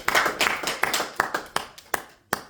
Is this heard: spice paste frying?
no